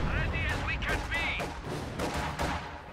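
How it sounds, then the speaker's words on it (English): Heavy mortar shells pound a building in a World War II real-time strategy match, a string of loud booming blasts and gunfire-like cracks filling the scene, with game voice snippets and chirps layered in and a commentator talking over it. "Heavy mortar continuing to bombard this building"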